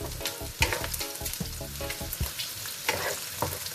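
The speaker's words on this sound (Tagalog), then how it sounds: "Papulahin lang po ng konti ang bawang" Garlic sautéing in a hot pan for a Filipino mung bean stew, with a steady close sizzle and frequent clacks of a spatula stirring.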